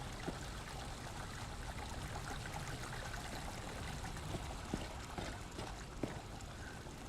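Flowing water from a water feature in The Elder Scrolls Online, a steady soft rushing stream with a faint trickle and occasional small drips, continuous and fairly quiet throughout.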